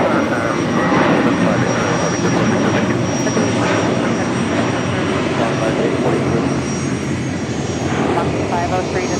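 Jet engines of a Japan Airlines Boeing 787 Dreamliner roar steadily and loudly at Los Angeles International Airport, a dense broadband rumble that holds without a break throughout.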